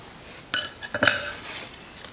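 A glass plate is set down onto the metal platen of a 1" x 30" belt grinder, giving two sharp glassy clinks about half a second apart followed by a fainter rattle, close and alone.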